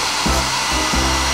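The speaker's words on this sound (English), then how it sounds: "Super sneaker dryer ready, B2." Steady loud whooshing air from a cartoon sneaker dryer, a continuous broadband blow with slight pulsing in its low end, heard alone without talk.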